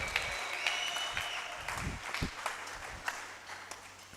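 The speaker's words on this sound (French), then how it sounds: "Applaudissons la parole du Seigneur" Church congregation applauding during a sermon, scattered clapping that is fairly faint and uneven, with a few louder individual claps and a low hum beneath.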